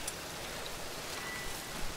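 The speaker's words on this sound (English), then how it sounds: "Looks like rain." Steady rain falls in The Witcher 3, a dense even patter at moderate level running unbroken throughout, with no voices over it.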